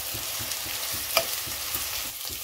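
Chopped onions sizzle and crackle steadily in hot oil tempered with fenugreek, coriander, cumin and basic spices in a home kitchen, with soft rhythmic stirring thumps and a brief sharper clink midway; no talking.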